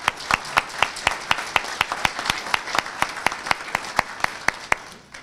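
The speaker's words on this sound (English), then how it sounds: "Audiences, give the Honor Guard a round of applause before they leave the building." Audience at a police academy graduation ceremony clapping in steady unison for the Honor Guard, sharp regular hand claps in a large hall with a slight echo, fairly faint and without talk.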